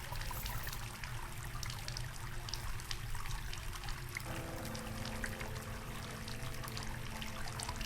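Water running and pouring in the horror game Asylum as a syringe is washed, a steady trickling stream over a low hum, its tone shifting midway, with no talk.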